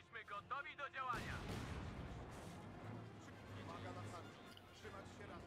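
Rocket artillery barrage in a war video game, a sustained roaring rumble of launches and impacts that starts abruptly and carries on steadily, with someone speaking over the noise.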